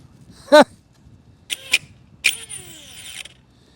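A few short electric motor whirs and whines from an Arrma Mojave RC car whose pinion gear fell off the motor, each burst spinning up briefly then cutting out, with quiet pauses between them.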